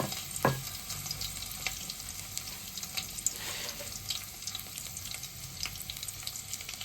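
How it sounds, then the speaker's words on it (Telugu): Crushed garlic spatters and sizzles after dropping into two spoons of hot oil in a kadai, a sharp initial hit then a steady close crackle with faint stirring. "ఆయిల్ వేడయింది. దంచుకున్న ఎల్లుల్లిపాయలు వేసుకోవాలి."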